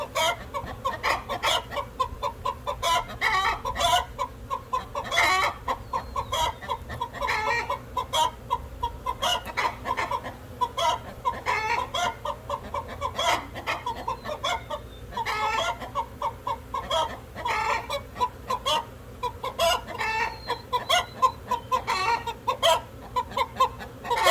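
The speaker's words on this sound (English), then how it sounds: "He thinks it's cyber weapon time to chase chickens. It's fun to chase chickens." A flock of chickens clucks in a steady stream of short, close calls, with occasional louder fowl cries mixed in. There is no talk.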